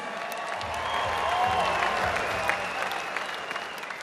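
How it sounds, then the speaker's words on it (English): A boxing crowd applauds two fighters after a professional welterweight bout, with sustained clapping and some cheering filling a large hall and a faint tonal hum running beneath. "can we please have a round of applause for these 2 warriors?"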